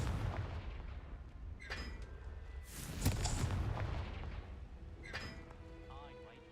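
In a Hogwarts video game, a Confringo explosion spell goes off in a sharp booming burst with a crackling tail, amid other short magical blasts and faint game voices.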